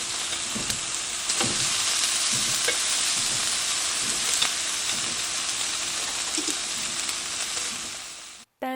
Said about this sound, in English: Our pan is hot. I'm going to go ahead and get our fajita meat laid down.